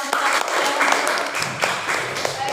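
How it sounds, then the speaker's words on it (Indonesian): Children in a classroom applaud a group presentation, a dense patter of clapping spread across the room, mixed with chatter and voices throughout. "Tepuk tangan anak-anak untuk kelompok"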